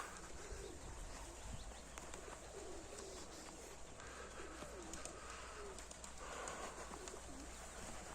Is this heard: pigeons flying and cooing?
yes